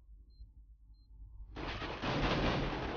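Gunfire from the Minecraft MineStrike minigame opens with a sudden loud burst after a quiet stretch of faint blips, then keeps up dense crackling shots that grow louder to the end.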